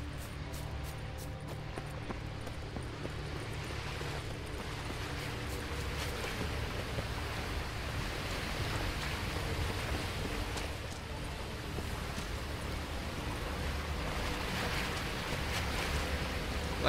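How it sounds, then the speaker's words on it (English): Water in Witcher 3 keeps up a continuous, moderately loud rushing hiss like waves or a flowing stream, even and unbroken throughout. "Like, I can hear the water."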